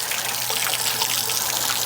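Water from a garden hose rushes steadily through an outboard boat motor being flushed and streams out under good pressure, a constant close hiss and splash with a low hum beneath.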